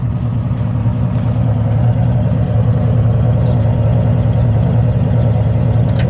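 A 1953 Chrysler New Yorker Deluxe convertible idles with a steady, deep exhaust rumble. The sound is close, even and continuous, with no talking.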